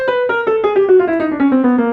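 Piano notes stepping steadily downward by half steps, a quick even run of about a dozen tones played alone, clear and close.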